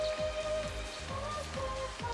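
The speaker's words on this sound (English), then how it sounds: "Come out to play in the rain, did you?" Steady light rainfall in the video game Final Fantasy XIII, a soft, quiet patter on surfaces with faint background tones, no talking.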